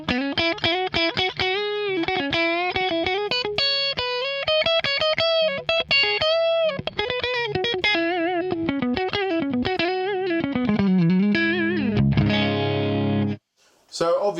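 Electric guitar played through a Movall Audio Rocket Train compressor pedal with sustain turned fully up, a run of bright, evenly held notes and bends with long sustained tails, ending in a strummed chord and a brief cutoff.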